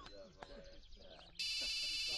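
After some voices and background chatter, a loud electronic phone ringtone suddenly starts and rings on steadily, dominating the sound.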